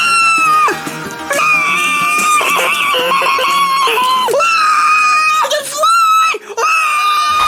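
Piercing, sustained screaming from a plush puppet character in a comedy skit, loud and close, with several long wails broken by short gasps and shifts in pitch.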